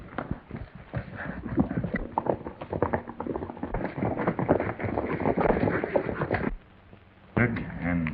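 Rhythmic clip-clop of horses' hooves trotting under a dense mix of voices and music, with a brief drop in sound near the end.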